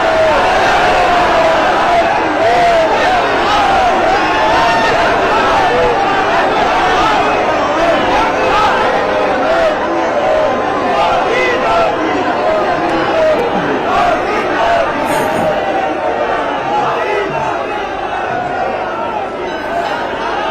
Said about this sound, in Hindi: लोगों के जो नारे हैं एक बार आप सुनिए।